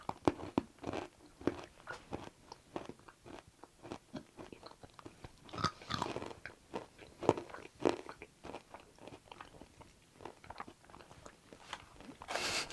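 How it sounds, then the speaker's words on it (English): Close crunching and chewing as people bite into and eat nuts, irregular crisp cracks and mouth sounds repeating steadily and quietly, with no talking. "let's each just grab the nut to start with"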